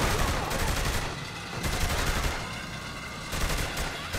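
Rapid bursts of automatic gunfire in Saints Row: The Third, several loud rattling volleys broken by short pauses, over a constant game background.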